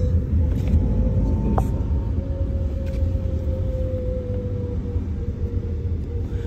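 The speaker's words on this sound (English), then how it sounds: "The traffic is not that bad." Steady road traffic in Bali, a continuous low engine rumble with a sustained motor whine and a brief sharp click partway through, heard close and constant throughout.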